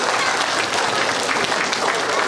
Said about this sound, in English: Let's give those generous teachers a big round of applause once again.